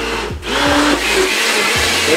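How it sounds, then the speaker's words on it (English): A kitchen blender whirs loudly and steadily up close while blending ingredients for green enchilada sauce, its motor pitch wavering slightly. "You put on the blender, close the thing."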